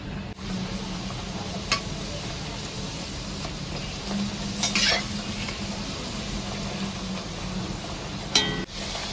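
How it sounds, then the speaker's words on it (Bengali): Luchi fries in oil with a soft, steady sizzle, broken by a few scraping stirs and light clinks of utensils. "এইদিকে লুচি ভাজছি। এই যে বেলেছি, এই লুচি ভাজবো।"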